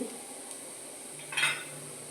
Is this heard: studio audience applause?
no